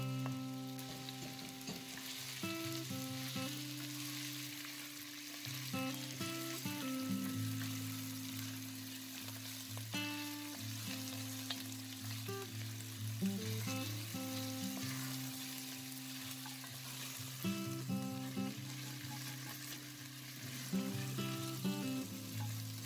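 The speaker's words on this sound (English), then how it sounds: "Then you fry it up until it turns brown." Beef pieces fry in hot oil in a pot, a dense, steady sizzle heard up close with occasional stirring scrapes throughout, no talking.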